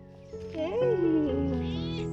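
A single drawn-out cat meow, rising then falling in pitch, close and clear, with a soft second vocal tail trailing off.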